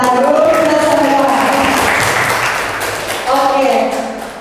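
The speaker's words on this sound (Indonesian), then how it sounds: "Tepuk tangan dulu kita semua." Indoor audience at a teachers' training session breaking into applause, a dense wash of many hands clapping, fading slightly midway and then swelling again, with a voice speaking over parts of it.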